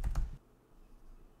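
Quick keystrokes on a computer keyboard while a password is entered, a short cluster of close clicks at the start, followed by near silence.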